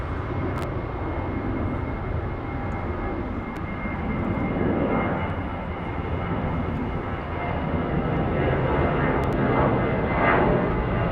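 A Condor airliner jet at Frankfurt Airport produces a steady, broad engine roar that holds for the whole stretch, moderately loud and slowly swelling, with no talking.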